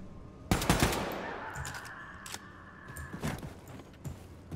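Gunfire in the Wolfenstein II video game: a sharp close shot leads a quick cluster of bangs, followed by scattered fainter shots and clatter over low game ambience, without speech.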